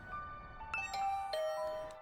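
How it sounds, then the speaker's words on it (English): A doorbell in the video game The Hundred Line - Last Defence Academy rings out as a clear, ringing ding-dong chime of several sustained tones, alone and fairly loud. "I rang the doorbell and could hear the bell ring on the other side of the door."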